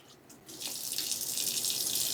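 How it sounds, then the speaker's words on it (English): Milky rinse water poured off rice, a steady rushing splash that starts after a brief quiet moment and keeps going, close and alone. "I'm just pouring off the milky white water."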